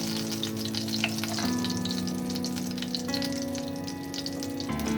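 Spices hitting hot oil in a pan for cauliflower kofta, with a continuous crackling fry and sizzle and a few faint clinks and stirs, no talking.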